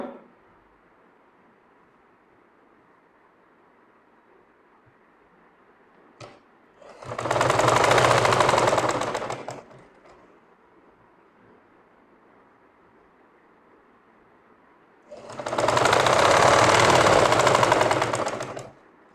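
A sewing machine stitching a pocket onto a shirt, two loud close bursts of rapid whirring stitching, each about two to three seconds long, separated by quiet pauses with a faint click.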